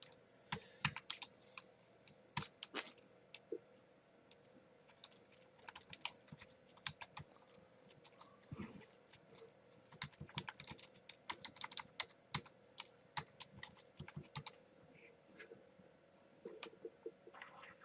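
Computer keyboard typing while playing King's Quest: scattered, close key clicks and clattering bursts come in irregular runs with short pauses, quiet and with no speech.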